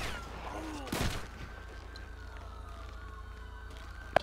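A beanbag shotgun blast rings out in a GTA 5 FiveM police standoff, one sharp loud report near the start, followed by a long quiet stretch and a faint click near the end.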